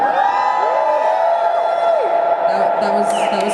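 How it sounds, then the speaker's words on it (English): A rally crowd screams and cheers on request, a loud, sustained wash of voices with scattered whoops and shrill cries throughout. "If you can hear me, scream."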